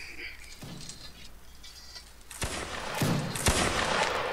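Musket volley fire in the Mount and Blade Warband game, a scattering of sharp shots cracking out, a few isolated reports followed by a denser ragged burst of overlapping blasts, fairly close and loud.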